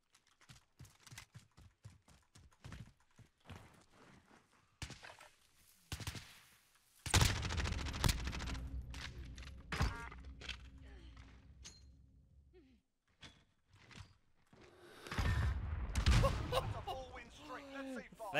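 SMG gunfire in a Call of Duty match comes in rapid bursts of sharp shots, loud in stretches and fading to quieter gaps, with voices talking over parts of the action.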